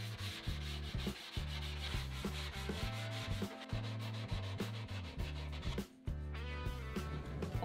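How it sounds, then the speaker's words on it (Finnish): Edges of a laminated wooden skateboard deck being sanded by hand, with steady rhythmic back-and-forth rubbing strokes, close and continuous, with a brief pause near the end. "sen jälkeen vielä hiotaan ne kevyesti"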